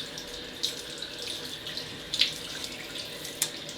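Tap water runs steadily into a sink as a face is wetted before shaving with an old Theta 26mm razor, a constant close hiss with a few brief splashes and clicks.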